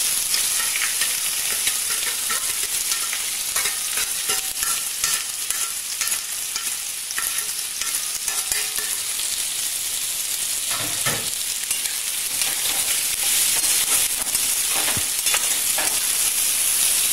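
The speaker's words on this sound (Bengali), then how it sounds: "এরপর আমি এর মধ্যে দিয়ে দেব কেটে রাখা পেঁয়াজ আর রসুনটা।" Chopped onion and garlic frying in hot oil in a pan while dum aloo is being made. A loud, dense, continuous sizzle with occasional stirring scrapes sounds close and steady throughout, with no voices.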